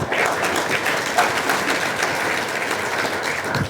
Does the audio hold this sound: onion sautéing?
no